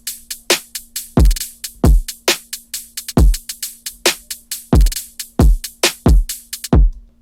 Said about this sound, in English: Next thing we've got is just the drums, which sound like this.